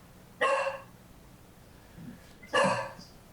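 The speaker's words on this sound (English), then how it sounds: "I want to be very clear that the dog is not in council chambers" A dog barks twice, about two seconds apart, with sharp, fairly loud yelps rising above a quiet room hum and a faint murmur in between.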